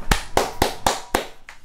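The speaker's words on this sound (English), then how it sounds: "I don't know why I'm clapping" Five sharp hand claps at an even, brisk pace, close and loud, with a quieter sixth clap trailing off at the end; no talking, during a Team Fortress 2 gaming session.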